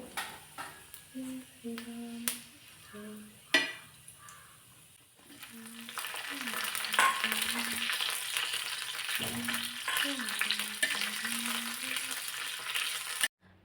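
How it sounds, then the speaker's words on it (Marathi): A spoonful of oil with cumin seeds frying in an iron pan, a bright hissing sizzle that swells and holds steady at close range, while someone talks over it and scattered clinks are heard early on. "एक चमचाभर तेल घातलं आणि जिरे घालताना जरासे जास्तच घालायचे"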